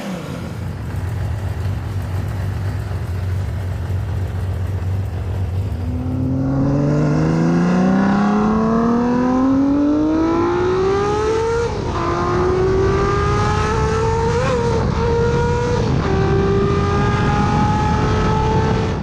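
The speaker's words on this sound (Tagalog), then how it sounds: "Tunog ng makina!" Honda CBX 1000 inline six-cylinder motorcycle engine idling low, then revving up steadily through rising pitch with brief throttle blips, loud and close throughout with no talk.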